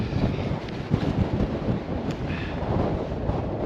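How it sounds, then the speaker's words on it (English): Strong wind buffets the microphone on an open mountain top in the Bluestack Mountains, Donegal, a constant rough roar with gusty swells and no voices. "oh, it's got very windy there"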